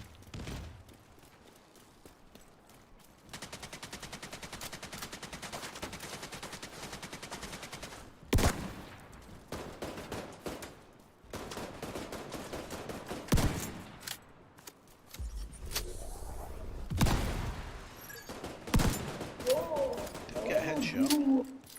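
Gunfire rings out in The Division 2 while clearing a New York City map, a steady stretch of rapid shots followed by scattered single bursts, moderately loud under game ambience.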